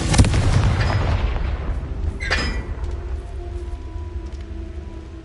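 Confringo fire spell from Hogwarts Legacy bursting in a loud, booming explosion up front, followed by a second sharp crack and a long crackling, rumbling tail that slowly fades.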